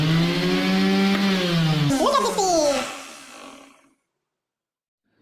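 A household mixer grinder converted into a sander runs loud and steady with a harmonic motor whine, then its pitch sweeps up and it winds down to silence within about four seconds.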